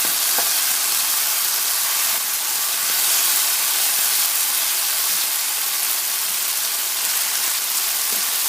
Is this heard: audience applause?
no